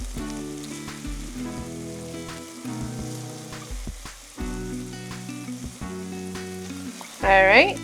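Minced garlic and onion fry in a pan for pastitsio, a soft crackling sizzle under background music, with a louder clatter near the end.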